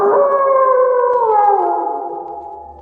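A long, loud jackal howl rising and then sliding lower as it fades, a single drawn-out wail with no other sounds around it.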